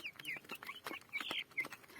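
A hen with a fever clucks repeatedly in short, close bursts, a busy run of fowl calls with no talking.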